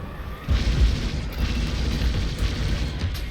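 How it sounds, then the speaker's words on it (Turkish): A mine detonates in the Star Wars Squadrons space-combat game, a deep booming blast that swells in and rumbles on for a few seconds amid steady game noise. "Mayın attım. Mayınımın vurması lazım."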